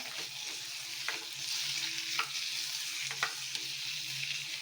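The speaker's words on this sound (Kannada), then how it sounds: "ಇದು ಹಾಕ್ಕೊಂಡು ಎಲ್ಲ ಫ್ರೈ ಮಾಡ್ಕೊಳ್ಳೋಣ" Cashews, tomatoes and masala frying in a pan for a Punjabi rajma dish, a steady close sizzle running throughout with a few sharp stirring scrapes at intervals.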